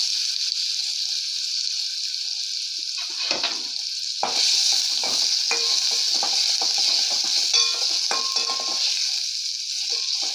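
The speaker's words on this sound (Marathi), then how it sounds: "कांदा छान परतून घ्या।" Chopped onion with a pinch of asafoetida fries in a pan with a loud, steady sizzle. A utensil stirs it and scrapes the pan in a busy run of clatter partway through.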